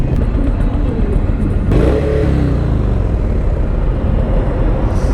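A nearby vehicle revving its engine alongside a rider on a 2020 Indian Challenger motorcycle, a loud rising and falling engine roar in the middle of the clip over steady wind and road noise.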